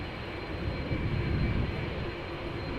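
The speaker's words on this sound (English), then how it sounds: "KLM flight 671, another A330 300" A KLM Airbus A330-300 jet airliner, eleven years old, departs Amsterdam Schiphol with a continuous engine roar that swells slightly mid-way, then eases back while staying steady and moderately distant.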